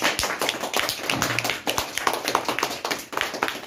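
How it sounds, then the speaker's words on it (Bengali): An audience applauds the film team at a celebration, a short burst of dense, steady clapping from many hands, close and lively. "আমাদের দলের সবার জন্য একটা জোরে হাততালি হওয়া উচিত"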